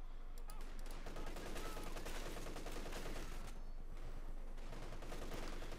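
An MG-34 machine gun fires in the video game Company of Heroes 2, mixed with other battle gunfire: dense, rapid bursts that run without a break across the whole stretch, loud and continuous.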